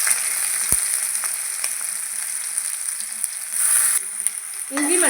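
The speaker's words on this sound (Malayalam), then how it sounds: "ഇഞ്ചി വെളുത്തുള്ളി ഇട്ട് നന്നായി ഒന്ന് ഇളക്കി കൊടുക്കുക." Ginger and garlic sizzle in hot coconut oil after mustard seeds, a steady close frying hiss with occasional light stirring knocks and a brief scrape at the end.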